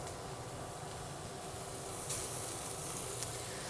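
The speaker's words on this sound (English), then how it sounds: "So hear the sizzle." Faint, steady sizzling hiss of bacon frying in a pot, continuous with a couple of brief sharper crackles.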